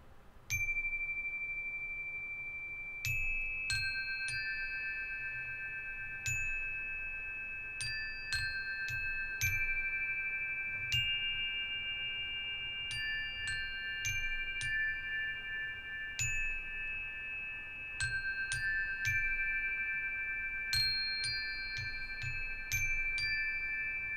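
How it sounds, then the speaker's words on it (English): A chime is struck repeatedly for about twenty-four seconds, its clear bell-like tones ringing out in irregular clusters and sustaining as they overlap, with a faint low background beneath. "there's been requests for me to play the chime"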